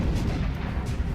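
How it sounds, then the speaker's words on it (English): Heavy booming blast in XCOM Enemy Within, a loud, dense low rumble filling the whole moment, with a couple of muffled thuds inside it. "They'll see the explosion."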